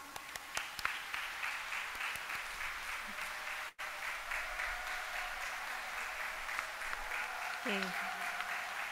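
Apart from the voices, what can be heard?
warm applause for the graduating class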